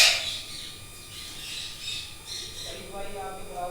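A lacewing ringneck or alexandrine parrot lets out a sharp, loud squawk at the start, followed by softer bird chatter and calls in an aviary setting.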